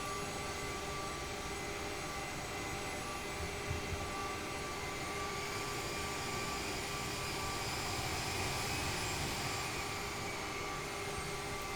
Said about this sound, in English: The sounds are just great with this aircraft.